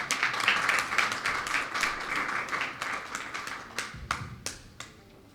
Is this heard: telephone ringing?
no